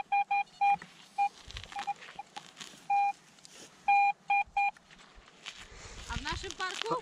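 Metal detector beeping in a park, a run of short, clear repeated tones followed by digging and shuffling noises, with people talking nearby.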